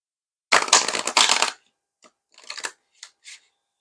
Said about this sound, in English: Whoops, that shuffle did not go as planned